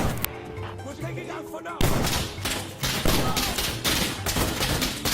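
Shotgun-like Breacher weapon firing in Insurgency Sandstorm, a run of loud, close blasts in quick succession following a quieter opening with faint ambience.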